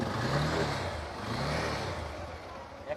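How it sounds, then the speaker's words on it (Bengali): A motorcycle engine revs fairly faintly, its low mechanical drone rising and falling over a few seconds. "ইঞ্জিনের সাউন্ড দেখলে"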